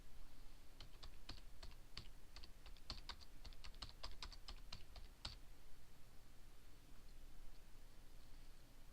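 Quiet clicking of keys being typed on a computer keyboard, a burst of fairly steady keystrokes for several seconds, then stopping, over faint room hiss.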